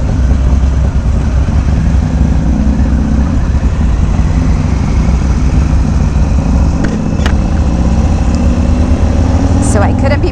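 A 2019 Harley-Davidson Fat Bob motorcycle engine rumbles steadily and loudly throughout a test ride, a continuous low throbbing drone with wind noise and no break.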